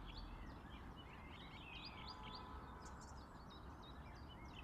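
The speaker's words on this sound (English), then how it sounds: "You can tell the time of year, all the birds are singing" Wild birds sing by a lakeside carp-fishing spot, with a steady scatter of faint chirps and tweets over a constant low background rumble, with no talking.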